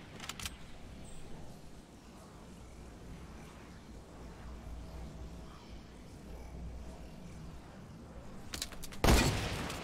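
Gunfire in the Fortnite video game: a couple of sharp shots at the start, then a louder, closer burst near the end over quiet game ambience, with no talk.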